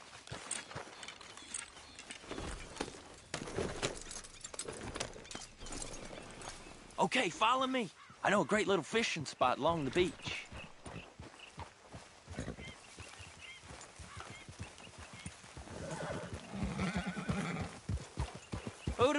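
Horse hooves clip-clop steadily through most of the stretch in Red Dead Redemption 2, with a horse whinnying around the middle, while someone talks over the riding.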